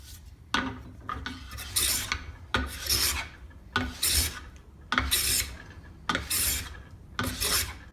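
A scraper built from a Stanley hand plane takes fine shavings from wood in rhythmic rasping strokes, roughly six back-and-forth passes close to the ear, each a scratchy swish with brief gaps, no voices.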